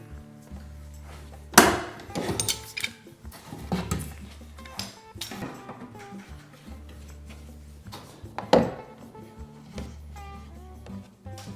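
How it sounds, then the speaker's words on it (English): Screws being fitted during a final installation, heard as scattered taps, clicks and a few sharp knocks against a quiet background, with no talk. "start to fit the other screws in"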